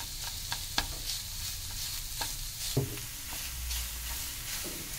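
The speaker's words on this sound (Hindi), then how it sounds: "ये देखिए, भुनना शुरू हो गया है, मावा भी अपना हल्का हल्का घी छोड़ रहा है।" Mawa (khoya) roasting in ghee in a pan for carrot laddu, a soft continuous sizzle under regular scraping and stirring strokes, close and moderately quiet, without speech.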